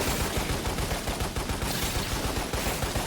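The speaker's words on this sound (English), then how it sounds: "Let's grab this machine gun real quick." Sustained rapid machine gun fire in the video game Lost Planet, a loud, dense stream of overlapping shots with steady rhythm throughout, no talking.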